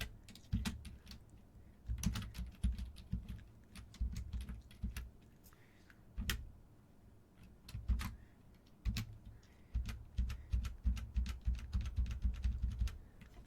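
Rapid typing on a computer keyboard clatters in uneven bursts of sharp, close key clicks with brief pauses between runs.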